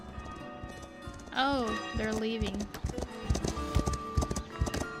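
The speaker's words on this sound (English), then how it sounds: "I hear a horse." A horse in a video game, with a loud whinny followed by steady clip-clop hoof beats receding, as someone talks over the sounds.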